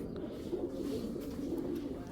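Racing pigeons coo softly and continuously nearby over a low murmur of background noise.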